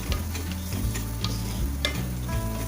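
Paneer cubes lightly fried in a pan and stirred gently: a bright sizzle under repeated scraping spatula strokes and low rhythmic knocks of the pan, close and steady.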